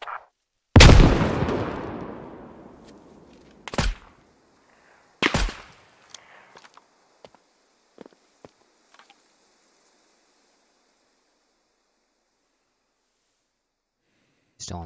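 Grenade blasts and shots in Squad: Steel Division, an urban fight around houses: one loud close explosion with a long ringing decay, two sharp bangs a little later, then scattered faint distant pops before quiet.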